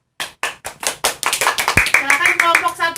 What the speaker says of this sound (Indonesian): Nah, sekarang tepuk tangan buat kelompok 2.